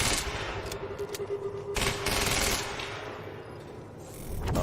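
Rapid video game gunfire at a firing line: bursts of automatic shots crackle densely and loudly, with a few heavier blasts standing out amid the sustained fusillade.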